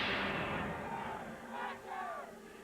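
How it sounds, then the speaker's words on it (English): A big monster truck arena crowd roars and screams for Carolina Crusher and Gravedigger at a USHRA Monster Wars race in Louisville, a dense, loud, continuous wash of cheering voices with rising shouts. "This crowd is nearly as loud as the monsters themselves. Half are screaming for Carolina Crusher and half for the Gravedigger."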